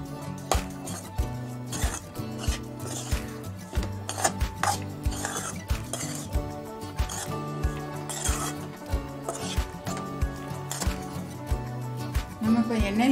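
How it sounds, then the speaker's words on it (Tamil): A spoon stirs fried tempering into cooked rice in a kadai for lemon rice, giving repeated scraping and light clinking against the pan, with steady tones in the background. "அது நம்ம இப்போ தாளித்ததை நம்ம சாதத்தில் போட்டு கலந்துக்கலாம்."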